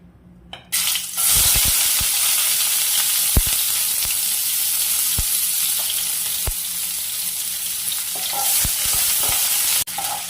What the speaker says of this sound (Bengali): প্রথমেই পেঁয়াজগুলো ভেজে নেব।